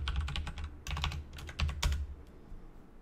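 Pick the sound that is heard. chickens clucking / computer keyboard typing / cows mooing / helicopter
computer keyboard typing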